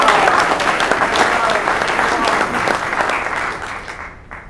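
A news conference audience claps together in a full, loud round of applause that carries steadily, then fades out over the last second.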